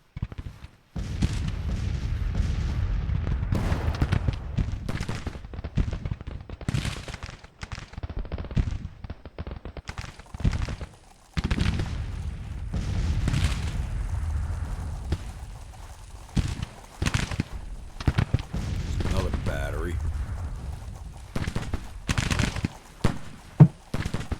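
Cannon and musket fire sound in the Civil War strategy game Grand Tactician: The Civil War, with repeated booming blasts and crackling volleys at irregular intervals, some loud and close and others more distant.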